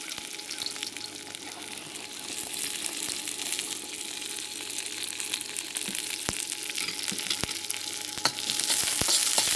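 Ginger and onions fry in a stir-fry pan for pork with baby bok choy, a steady close sizzle with scattered crackles and pops that grows slightly louder toward the end.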